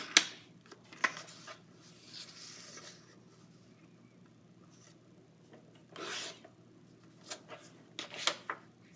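Paper being cut to size for a 12x12 scrapbook page layout, heard as a few short rasping, scraping strokes, some close and some faint, with quiet gaps between them and no talking.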